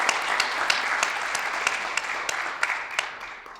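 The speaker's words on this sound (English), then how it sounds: "if we can just get a round of applause for my fellow honorees for the work that they've done" An audience at a public heroes appreciation awards ceremony applauds the evening's honorees, a steady, dense wash of many hands clapping with sharper individual claps popping out, sustained throughout without talk.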